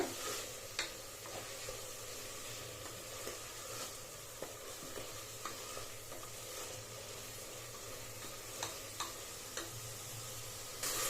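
Tomatoes frying in oil for fenugreek-leaf (menthya) pulao, giving a steady sizzle with occasional ticks and scrapes of stirring, continuous and fairly quiet, no talking.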